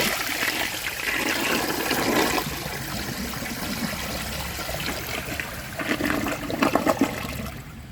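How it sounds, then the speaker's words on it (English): A Project Source Pro toilet with a full tank and a clogged siphon jet flushes with a rushing swirl of water, then gurgles and trickles as the bowl drains and the tank refills, close by. "now I'm going to do a press and release flush with a full tank and a clogged siphon jet"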